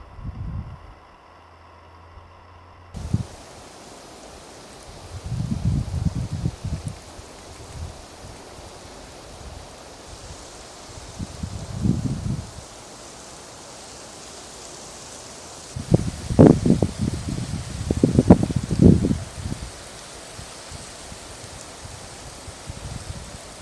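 Gusts of wind rise and fall outdoors in snow, with soft rustling bursts and a stronger buffeting flurry toward the end.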